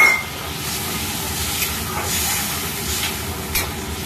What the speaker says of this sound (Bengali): মশলাটা হয়ে গেছে, একটু ঝোল দিয়ে দিচ্ছি।